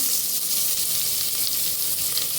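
Onions frying in a spoonful of ghee in a pan, a continuous bright crackling sizzle that stays close and steady for the whole moment, with no one talking.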